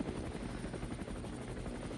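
A helicopter filming a professional road bike race, the Vuelta a la Región de Murcia in Spain, giving a steady, continuous rotor drone and chop that holds evenly throughout, with no talk.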